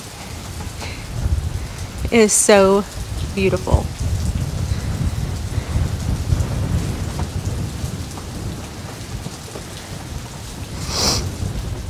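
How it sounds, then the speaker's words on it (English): Heavy rain pours steadily over a ranch pasture where sheep graze, with thunder rumbling through the downpour; a person briefly speaks early on, and the rain roar continues throughout. "Look at this rain."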